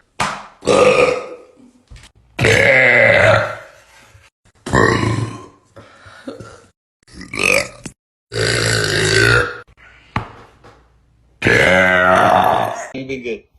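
Several loud, drawn-out burps from a girl drinking Coke come in separate bursts across the stretch, alternating with brief talking between them.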